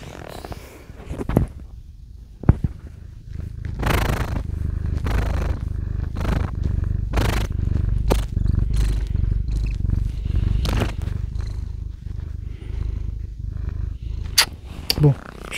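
A pet cat purrs right against the microphone, a close, low rumbling purr that swells and fades with each breath, broken by brief bumps and clicks as it moves against the mic.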